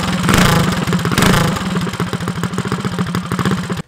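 A modified Predator 212 small engine fitted with a large cam idles loudly and close, with a lopey, choppy rumble and rattling clatter, its pulses slightly uneven before it abruptly cuts off at the end.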